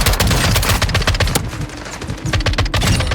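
Squad gunfire in Warzone 2 on Ashika Island, loud, close, rapid bursts from several weapons with repeated cracks throughout and a short lull in the middle.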